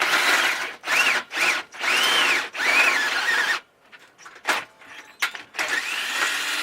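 A power drill whirs in several loud bursts, its motor pitch rising and squealing, then stops; lighter clicks and scrapes follow.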